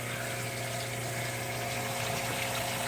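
Water trickling down through a pond filter, a faint steady wash of falling water with a low hum beneath it.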